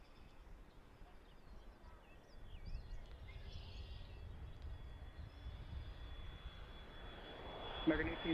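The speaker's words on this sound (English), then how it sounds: "Yep, they're landing on 27 right." An airplane landing on runway 27 right at Philadelphia airport, heard from Fort Mifflin as a low, distant engine rumble that slowly swells louder, with a faint radio voice in the background.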